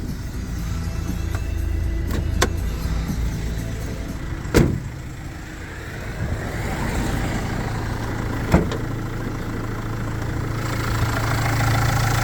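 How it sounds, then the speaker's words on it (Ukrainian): Engine of a 2015 Renault Master van idling under the open hood, a steady low rumble heard up close, broken by a few sharp clicks or taps. "І на завершення покажемо під капотом, як працює двигун."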